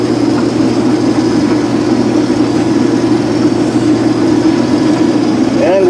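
Combine harvester engine harvesting milo, running at a loud, steady, low droning idle with no clear change in pitch, close to the microphone throughout.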